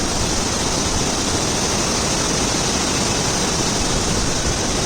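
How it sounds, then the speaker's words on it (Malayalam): The Nakshatra waterfall and forest stream in Mankulam, Idukki roar in a dense, unbroken rush of falling water, loud and close with no other sounds. "കാട്ടാറിൻ്റെ ഗദല ശബ്ദം കൂടിയുള്ള മനോഹരമായ കാഴ്ച"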